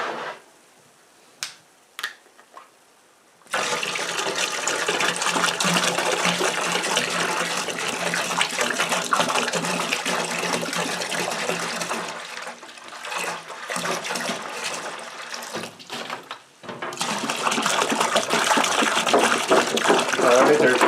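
Apple cider glugs and splashes steadily as it is poured into a large pot for caramel apple pie moonshine. A few sharp clicks come first, then continuous pouring runs for most of the stretch with a short break midway.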